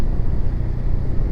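A Zontes 350 D 2023 scooter accelerates with a steady, close, low engine rumble and road noise across a brief stretch, with no talking.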